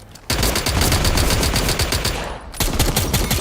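Rapid automatic gunfire from the space video game Star Atlas rattles loud and close in a dense continuous burst, breaks off briefly, then resumes, with no talking.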